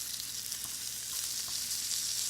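Ordinary bacon sizzles in a pan with a bright, even crackle and scattered small pops, close and continuous. No voices.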